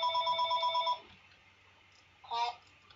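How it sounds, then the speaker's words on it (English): A telephone rings near a man playing World of Tanks, a bright electronic warbling ring pulsing rapidly for about a second, then a pause and a short burst of ringing again. "Well, there's the phone."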